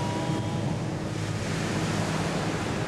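Sea waves crash steadily against the coast, making a dense, continuous roar of surf that stays loud and unbroken throughout, with wind mixed in and no voices.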